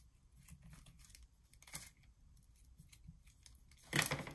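Scissors snipping and trimming a paper doily at close range, with a few quiet cuts and light paper rustling, then one louder snip near the end.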